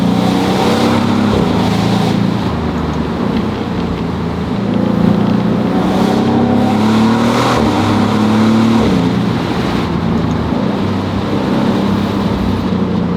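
A 2025 Maserati GranCabrio Trofeo convertible drives with its top down. A loud, steady engine drone carries on without a break, with small rises in pitch and no speech.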